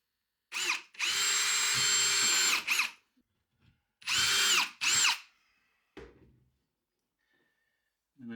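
A power drill drives a screw into a wall during a home office remodel, running in several loud, close bursts of whirring: one short, one long sustained run, then two more bursts, with small clicks and handling noises between.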